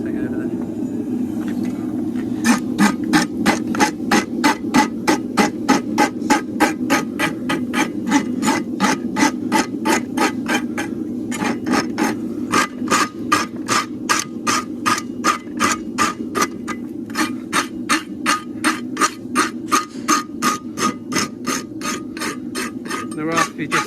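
A farrier works a horseshoe and hoof, rasping the inside after shaping it with a hammer: a long run of close, rhythmic scraping strokes over a steady low hum, with a brief pause partway through.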